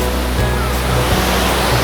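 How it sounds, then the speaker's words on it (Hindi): Elephanta Falls waterfall in Meghalaya, heard close up as a loud, steady roar of rushing, crashing water that fills the whole stretch without a break. "This is the third point of the Elephanta Falls"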